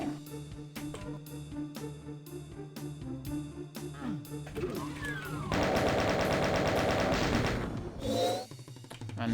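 In the video game Doom, gunfire crackles in a rapid, regular series of shots, then bursts into a dense, louder barrage of automatic fire with game effects before easing off.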